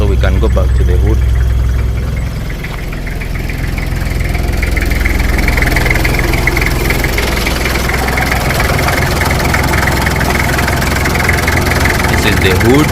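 A Toyota 1HZ diesel engine idles loudly and steadily nearby, a deep rumbling clatter with strong low vibration throughout.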